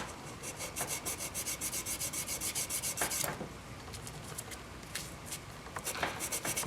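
Fine-grit sandpaper rubbing along the wooden neck of a 2004 Japanese-made Tele guitar, a steady rhythmic back-and-forth scraping up close that pauses briefly and resumes with lighter strokes.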